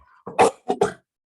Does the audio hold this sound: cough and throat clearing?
yes